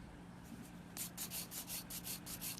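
A 100-grit hand file rubs across fingernails in about seven quick, even back-and-forth strokes. The rasping is soft and close, starting after a short quiet moment.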